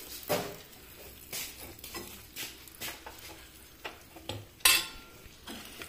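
A spoon scrapes and clatters intermittently against a pan while a mango pickle mixture is stirred over low flame, soft knocks spaced every second or so, with one sharper metallic clink near the end.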